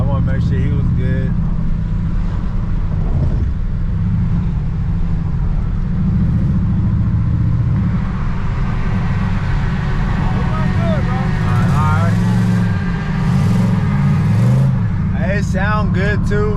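A Chevy Monte Carlo SS with an exhaust leak idles loudly and steadily up close, rumbling throughout with a few rising revs, while people talk over it.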